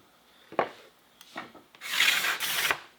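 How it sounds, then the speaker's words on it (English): A card scraper drags across guitar tonewood in several strokes: two short scratches, then two longer, louder rasping passes close by, with nobody speaking. "we can scrape. And it pulls a pretty good edge, and it pulls a pretty good curl"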